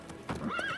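A horse in The Witcher 3 video game, a brief clip-clop of hooves followed by a short whinny.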